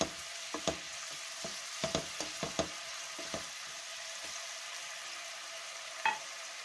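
Chopped peppers sizzle steadily in hot olive oil in a pot, with scattered crackles and occasional clinks of a utensil stirring.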